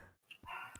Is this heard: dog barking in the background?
yes